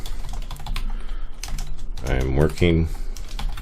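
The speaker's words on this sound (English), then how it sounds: "which you guys can hear me typing" Rapid clicking keystrokes on a computer keyboard run throughout, close and steady, while someone speaks briefly partway through.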